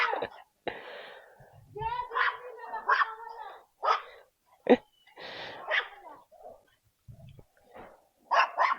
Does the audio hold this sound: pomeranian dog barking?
yes